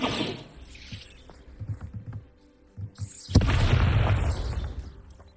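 A Bombarda blasting spell goes off in Hogwarts Legacy as a loud, sudden boom that rolls into a sustained rumbling burst of debris after a stretch of quieter low thuds and ambience.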